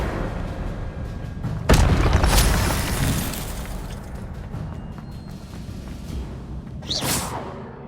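An Incendio fire spell cast in Hogwarts Legacy bursts with a heavy booming whoosh, then a long roaring rumble that slowly fades before a second sharper swish near the end.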